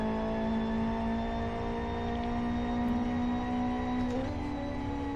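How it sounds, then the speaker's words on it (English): Car engine in the Live For Speed racing game, a steady droning whine with strong harmonic tones holding a constant pitch and rising briefly as a wrong gear is hit near the end, loud and continuous with no talk. "Oh, wrong gear. That was a bad noise from the engine."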